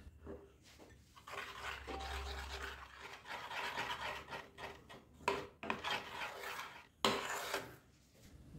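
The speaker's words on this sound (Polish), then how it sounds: "Wsypujemy czekoladę i mieszamy" Chocolate being stirred into hot cream in a small pot for a walnut cake glaze, a steady soft scraping and rubbing of a utensil against the pot with a few louder clinks near the end.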